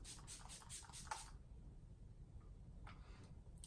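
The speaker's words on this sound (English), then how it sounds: "I'm going to go in with the MAC Fix Plus and just spray my face." MAC Fix Plus face mist spritzed onto the face in a quick run of about five short, close, hissing bursts, then quiet room tone with faint small rustles.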